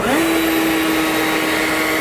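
Ryobi 40V Whisper Series cordless leaf blower spun up to full dial speed, its steady whooshing roar and high motor whine rising briefly at the start then holding loud and constant, close by with no talk.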